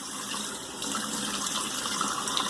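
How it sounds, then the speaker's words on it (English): Water runs steadily from a bathroom tap during a wet shave with a Gillette Aristocrat safety razor, a continuous close gush that swells slightly partway through, with no talking. "I'm leaving the water on there"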